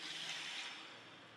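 Water pours steadily into a cooking pot of rice for chicken dum biryani, a soft continuous rushing stream that gradually eases off, with no talk.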